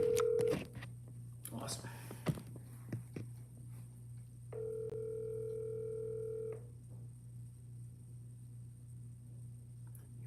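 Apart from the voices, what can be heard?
telephone call dialing and ringing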